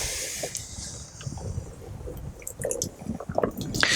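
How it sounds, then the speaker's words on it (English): A wet sponge wiping a car door, soft close squishing and dripping strokes that grow denser and louder toward the end, with no talking. "we'll use the fingers of the sponge to get in around the emblem here"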